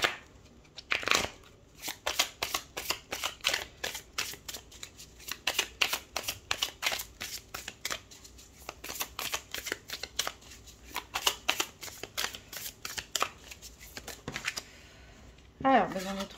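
Golden tarot cards are shuffled by hand in quick, crisp riffling bursts that patter steadily for most of the stretch, close up and fairly soft, with a brief sharper flurry near the end.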